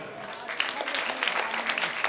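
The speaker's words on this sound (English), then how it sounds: "Let's clap our hands one more time." Congregation clapping hands at a church revival service, a dense steady patter of many hands lasting a couple of seconds, moderately loud with faint voices underneath.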